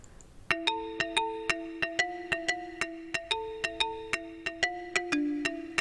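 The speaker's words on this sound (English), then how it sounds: "So this is a mallet," A bright mallet instrument patch from the Expand plugin plays a quick, steady melodic pattern of short, percussive plucked notes with ringing tails, repeated evenly and clear for about five seconds.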